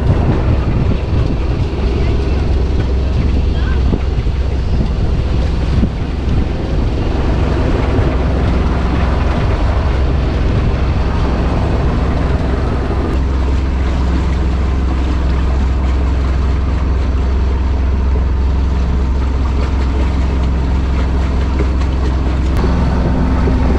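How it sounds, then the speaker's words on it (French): A sailboat's inboard engine runs at sea on a calm morning after the sails are lowered, a steady loud low drone with wind buffeting the microphone throughout. "Et puis on a démarré la mécanique"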